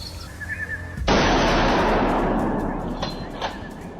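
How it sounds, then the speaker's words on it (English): A hunter's rifle fires one loud, sharp shot at a wild boar, followed by a long ringing decay, with two fainter cracks or echoes near the end. "the hunter takes precise aim and pulls the trigger"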